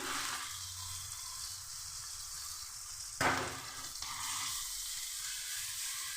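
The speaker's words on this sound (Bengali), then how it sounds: "মশলাটা একটু কষিয়ে নিচ্ছি" Ground spices (cumin, coriander and dried chilli powder) frying in oil in a pan, a steady close sizzle with a brief louder burst partway through, alone without talk.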